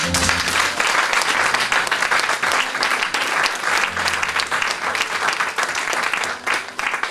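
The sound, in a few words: congregation applauding to acclaim the Lord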